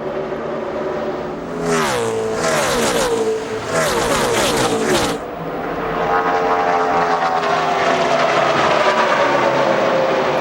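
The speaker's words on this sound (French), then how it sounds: "Jimmy Johnson qui s'attaque maintenant à Jeff Burton pour la 2e place avec sa voiture bleue" NASCAR Sprint Cup stock cars race at Michigan, loud engines roaring past in waves with Doppler drops in pitch, then a sustained rising roar as more cars power by. There is no talk.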